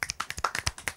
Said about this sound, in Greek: Μου άρεσε έτσι όπως το είπε και θέλω να χειροκροτήσουμε.